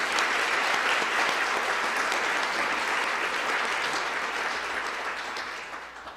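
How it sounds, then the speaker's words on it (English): A banquet audience at a university honors dinner gives a steady, full round of applause for the award candidates, holding level before tapering off at the end. "join me in giving another round of applause for all of our amazing candidates"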